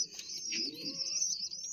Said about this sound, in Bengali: সমস্ত পায়রা বাইরে আছে, কিছু পায়রা নিচেও আছে ওড়ানোর জন্য।